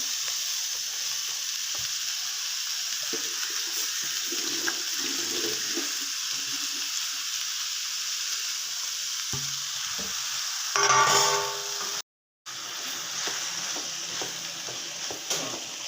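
Chopped green beans frying with onion, green chilli and salt in a pan, a continuous sizzle under stirring, with a louder hissing burst near the end and a brief dropout, no voices.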